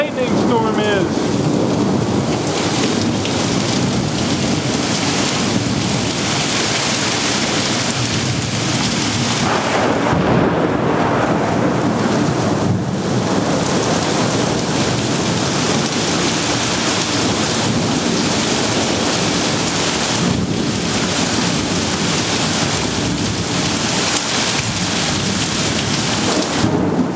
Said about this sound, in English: This is what a lightning storm is.